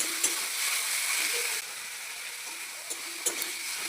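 Chopped carrots frying in hot white cooking oil give a steady, close sizzling hiss, with a few brief crackles and spatters and a slight drop in intensity partway through.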